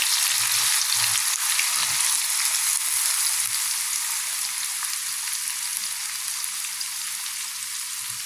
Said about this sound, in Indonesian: selanjutnya kita goreng sisanya